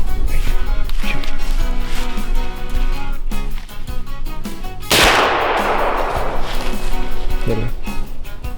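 A single loud, sharp gunshot cracks out during a deer drive on public land, its blast decaying into a broad wash of echo, amid outdoor noise and rustling.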